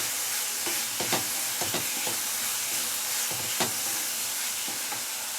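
A paste of green chili, coriander, curry leaves and cumin cooks in a pan, giving a steady soft sizzle and hiss with occasional scraping stirs, no talking over it.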